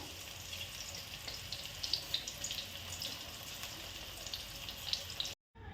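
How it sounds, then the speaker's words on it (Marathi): Rice flour alu vadi frying in hot oil: a dense, steady sizzle and crackle with small popping bursts, close and continuous, ending in a brief cut to silence. "चला आता तळून घेऊ चला वड्या सोडून घेते मी तेल तापत ठेवलं होतं"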